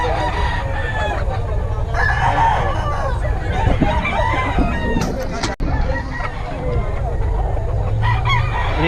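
Gamefowl stag roosters crow repeatedly among clucking birds, with a murmur of people talking in the background throughout.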